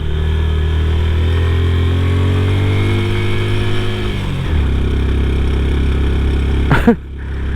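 A motorcycle engine laboring up a steep, winding hill road near Peacock Hill, Pussellawa, Sri Lanka, holding a steady loud drone that drops in pitch midway before a brief sharp burst near the end.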